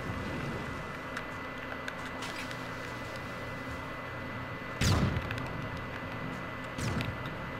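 Two grenade blasts in the Turketopia challenge video game, a sharp boom midway and a second one near the end, set against a steady low background rumble.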